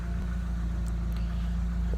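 A pickup truck's engine idles steadily through a new aftermarket exhaust, a constant deep rumble with a faint background hiss and no talk.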